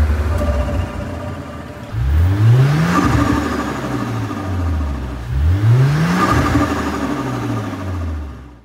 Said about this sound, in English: I was hearing really heavy compressor surge